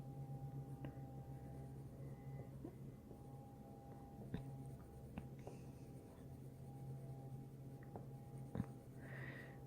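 Colored pencil coloring on paper with medium pressure, a quiet continuous scratchy rubbing with faint irregular strokes and small clicks, heard close and alone.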